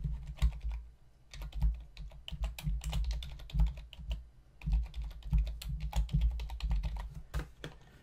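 Fast typing on a computer keyboard while a registration form is filled in, with close, quiet, steady key clicks that pause briefly now and then and no talking.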